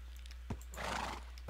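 A Minecraft horse neighs once in a short whinny, close and fairly clear over a low steady hum, with a couple of soft hoof-like knocks.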